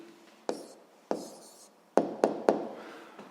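Hand writing an answer for a physics exercise, a few sharp taps and scratchy pen strokes on paper, close and quiet with gaps between strokes.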